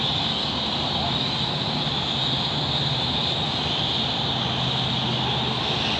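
Ford Mustang and Dodge Challenger street cars drag racing at a motorplex strip, a continuous loud roar of engines heard from a distance with a steady, even drone throughout.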